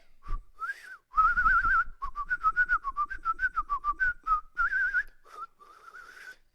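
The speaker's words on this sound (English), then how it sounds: "I can whistle." A man whistling a song tune, a clear melodic line of short and sustained notes with brief pauses, close to the mic and alone with no talking.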